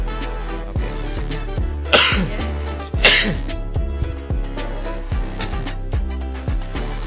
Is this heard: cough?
yes